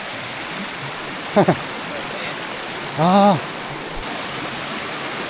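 Steady rushing water from a nearby stream in New Zealand fills the background, with a brief voice exclamation and a short burst of speech over it.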